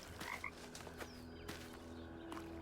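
Frogs croaking in a game: a few faint, short chirping croaks near the start, with more scattered croaks over a steady low ambient hum. No voices.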